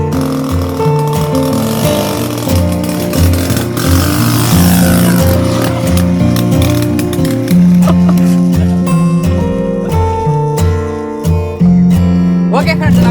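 A homemade motorized bicycle fitted with an old bike engine runs loudly and continuously close by, its rough buzzing drone shifting in pitch as it revs and settles.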